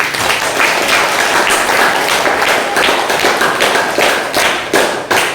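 A classroom of students claps together at the close of a lesson, steady dense applause filling the room with some sharper individual claps standing out near the end.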